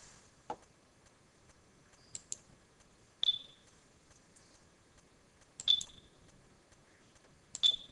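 A computer mouse clicks quietly several times at uneven intervals while someone works in GP-Pro EX HMI software, with a faint high electronic blip accompanying some clicks in a nearly silent room.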